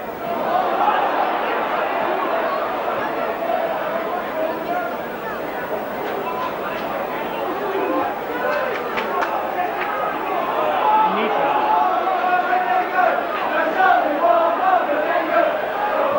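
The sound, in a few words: rugby league crowd singing "There's only one Mal Meninga"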